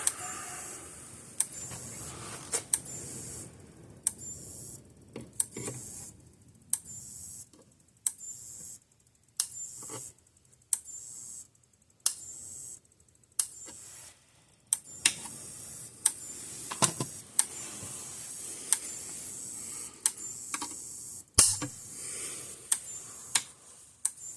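County Way 200 mile electric fence energizer, oversized for a light fence load, ticking out sharp regular clicks about once a second, fairly close and clear over a quiet background.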